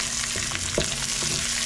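Fish and shrimp, including blue marlin, fry in a pan with a loud continuous sizzle and a few brief scraping stirs, heard up close without talk.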